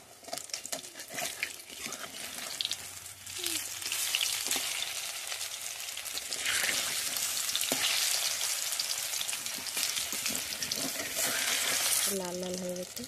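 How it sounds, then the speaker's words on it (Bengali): Taro flower fritters sizzle and crackle steadily in hot oil, the frying growing louder midway and continuing throughout, with brief clinks of a utensil and a short tonal beep near the end. "এভাবে উল্টে পাল্টে সব ভেজে নেব।"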